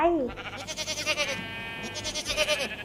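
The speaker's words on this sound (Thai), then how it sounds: "เสียงแรกเป็นเสียงของแกะค่ะ" Sheep bleat in wavering, quavering calls, first a short cry and then a longer sustained bleat, fairly close and clear over faint background noise.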